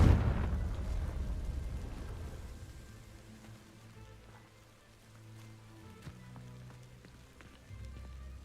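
A fire-spell blast from Hogwarts Legacy sets dry vines alight: a loud burst up front settles into a soft, steady crackling burn that fades over several seconds, with faint in-game ambience beneath.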